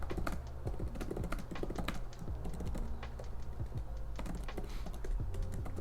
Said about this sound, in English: the keyboard is clicky, but it's not obnoxiously loud